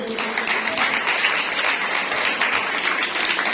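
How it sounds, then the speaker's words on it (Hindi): Sustained audience applause at an International Women's Day celebration in a church parish hall, a dense, even patter of many hands at moderate loudness for several seconds, with faint voices mixed in. "जोरदार तालियों में।"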